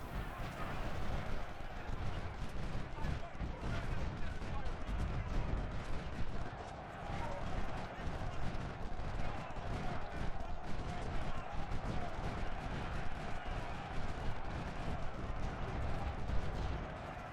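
American Civil War gunfire and artillery from Ultimate General rumble in a dense, continuous din of battle, with volleys and booms blurring together under game ambience.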